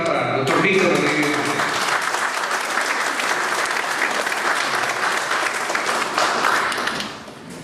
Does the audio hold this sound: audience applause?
yes